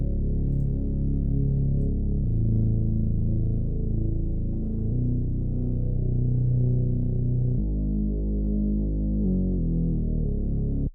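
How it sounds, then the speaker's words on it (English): A Serum synth bass in a reggaeton beat plays a deep, sustained, smooth bassline that shifts between notes in long held steps, with little else above it. "we have a synth bass out of Serum"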